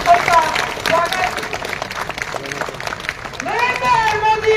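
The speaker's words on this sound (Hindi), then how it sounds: "जोरदार तालियों के साथ में उनका स्वागत।" A crowd of party workers applauding the arrival of opposition leader Rajendra Rathore, with bursts of clapping and cheering mixed under an announcer's amplified voice and crowd chanting.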